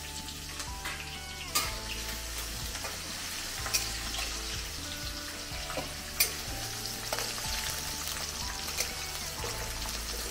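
Green and red chilies with curry leaves sizzle steadily in hot oil in a pan, a close, continuous frying crackle with occasional sharp pops and stirring clinks throughout.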